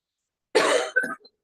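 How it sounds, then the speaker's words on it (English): A single close cough in two quick bursts, loud against otherwise complete silence. "I'm coughing now"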